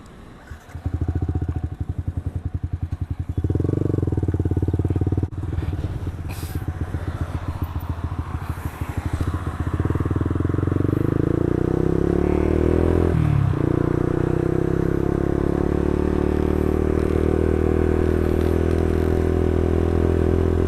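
A Yamaha Xabre 150cc motorcycle is ridden, its engine droning loud and continuous with rising and falling revs, passing through gear changes and accelerations over a long stretch, close to the rider.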